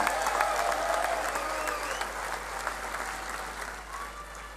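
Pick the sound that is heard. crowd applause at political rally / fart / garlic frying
crowd applause at political rally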